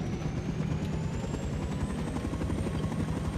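A helicopter in the survival game Rust lifts off, its rotor chopping in a fast, steady low thrum under a rising engine whine, loud and close throughout.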